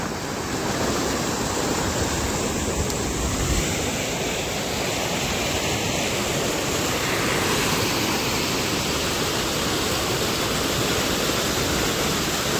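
A stream of water flows steadily past at a resort farmhouse, a continuous loud rushing hiss that stays even and unbroken throughout.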